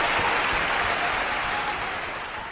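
Applause from an audience at a live salsa concert honoring a singer and his orchestra, a dense, loud, continuous wash of clapping that fills the clip and slowly fades toward the end, with no speech.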